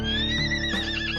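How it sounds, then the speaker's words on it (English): A racing horse gives a single short, close whinny that rises and then breaks off, heard alone and clear. "racing horse"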